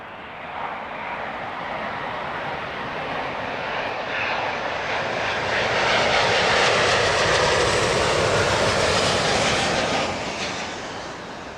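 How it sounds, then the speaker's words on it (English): American Airlines Boeing 777-200ER from Dallas Fort Worth landing at Heathrow Airport with a broad, loud jet engine roar that swells toward the middle and then eases slightly, with no voices. "On your screens now and about to touch down, American 20. This one a 777-200ER, inbound from Dallas Fort Worth."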